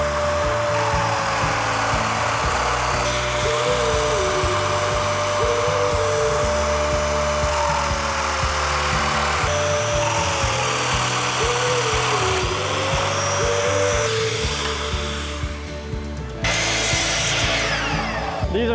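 Domino joiner cutting mortises in wood for rustic faux beam wraps, a loud steady power-tool whine with a dust-extractor hum, repeated plunging cuts changing the pitch, and a shift in tone near the end.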